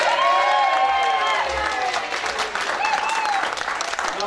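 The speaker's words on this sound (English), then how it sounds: "Let's have a massive round of applause for Father McBride." Wedding guests applaud loudly and cheer at a Ramsbottom wedding reception as the speeches begin, a dense, continuous roar of clapping with raised voices and whoops mixed through it.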